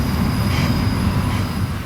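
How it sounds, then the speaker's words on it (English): A stacked freight container train heading eastbound on the railroad at Cedar Rapids, Iowa, a steady loud rumble of rolling cars and wheels with faint squeal, heard close and alone. "first catching the stacked container train heading eastbound past this parked manifest"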